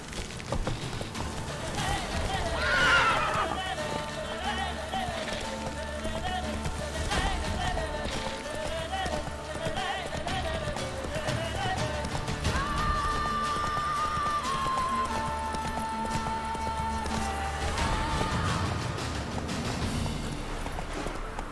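Horse hooves clip-clop at a steady gallop with a whinny in Witcher 3, set against game music and ambience; faint speech appears briefly.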